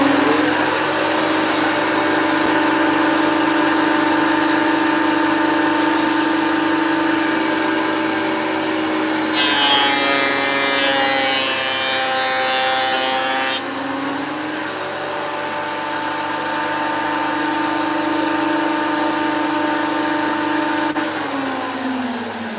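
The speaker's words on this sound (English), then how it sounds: "So let's just send it through the planer now and see what we got." Wood planer running steadily with a loud machine drone as maple timber is fed through, a brighter, denser cutting roar for a few seconds in the middle before settling back to the idle whine.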